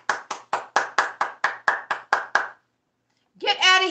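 About a dozen sharp, evenly spaced hand claps ring out close and clear, followed by a short pause before someone starts speaking.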